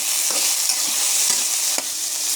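Noodles with peas stirred in a hot pan: a loud, steady frying hiss runs throughout, with a handful of soft spatula knocks at irregular intervals and no talking.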